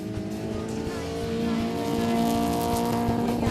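A Suzuki Sierra with a 1.3 litre fuel-injected engine, 2-inch suspension lift and Goodyear Wrangler tyres races around a rally track, its engine droning and revving steadily, loud and continuous with no talk.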